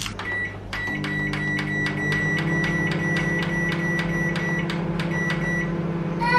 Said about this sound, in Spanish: Introduzca la bolsa en el microondas sin abrir ni perforar. En posición vertical. De 7 a 8 minutos.